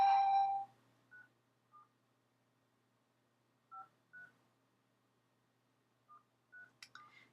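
Telephone keypad tones entering a conference access code: a series of short, clear DTMF beeps in irregular rhythm, some spaced apart and a quick cluster at the end, following a brief automated voice prompt.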